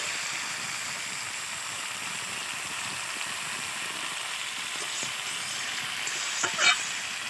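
Potato and egg curry with spices sizzles steadily in a pan as it is sautéed, a soft continuous crackling hiss up close with a brief clink near the end and no talking.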